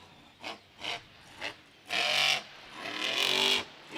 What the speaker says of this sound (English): The loud roar of that truck is unmistakable in Monster Jam